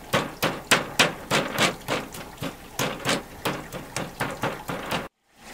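Rapid, repeated dull thuds of a hammer pounding chicken breast for schnitzel, around a dozen steady blows in quick rhythm, close and loud, then an abrupt stop.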